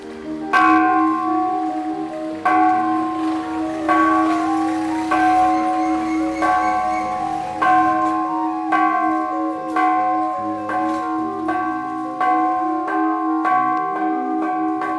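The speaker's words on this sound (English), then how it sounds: "Buddhist tradition is an early sounding of a temple gong," Buddhist temple gong or bell struck repeatedly at an early-morning hour, each loud strike ringing out in sustained tones that overlap and decay, with steady strikes throughout.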